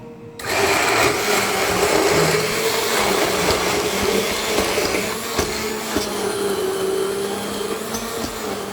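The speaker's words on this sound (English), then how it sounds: "Just a second, let's blend it." A kitchen blender whirs steadily and loudly, emulsifying an oyster escabeche sauce made with sunflower and a touch of olive oil, its motor pitch shifting slightly as the mixture thickens.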